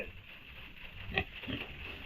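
Pigs grunting in an indigenous village home in the Amazon rainforest of Brazil, a few short snorts rising over a faint, steady background hum, with one sharper grunt standing out near the middle.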